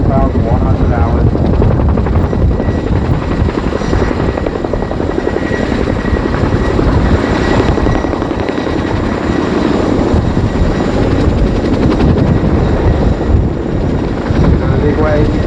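An RAF Boeing Chinook HC.6 twin-rotor helicopter flies a display at an air show, its loud, continuous rotor thump and turbine roar filling the whole stretch without a break.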